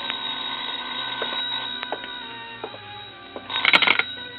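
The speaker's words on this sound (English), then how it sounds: "I was about to go downstairs when the phone rang." A telephone rings in a radio drama, a short burst of bright, rapid bell trills near the end over a quiet background.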